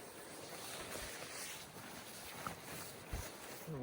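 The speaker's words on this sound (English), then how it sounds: "The wind's a little chilly." Wind blows across an open hill summit near Crowsnest, Alberta, a steady buffeting rush on the microphone with a few brief knocks, fairly loud and close, with no talking.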